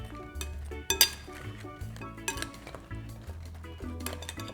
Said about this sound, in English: I'm gonna spoon those around and see how much that covers them.